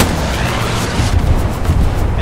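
A precision artillery strike in the video game Hell Let Loose, heard as a dense, rumbling roar of explosions that sustains loudly throughout, with low booms rolling under a wash of noise.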